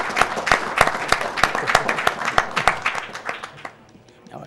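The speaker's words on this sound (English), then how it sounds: "I got an applause from the audience for that" A live audience at a charity speedrun marathon event claps in a lively round of applause, sharp individual claps standing out near the front before the sound thins and fades away toward the end.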